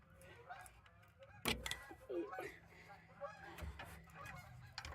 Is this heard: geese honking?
yes